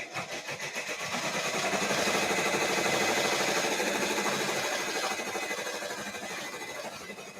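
A Brother 1055X ten-needle embroidery machine stitching, a steady mechanical whir with a fast rhythmic chatter that swells slightly and then eases, running continuously at moderate level with no talk.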